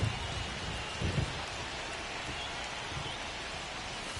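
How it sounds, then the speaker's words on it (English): Steady rain hisses across a baseball stadium in MLB 25, a dense, even wash of falling drops with a faint low rumble and no voices. "This rain is not letting up."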